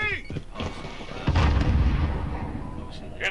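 In a video game, a thrown grenade goes off with a heavy, booming blast and a low rumble that trails away. Voices chatter briefly just before the explosion.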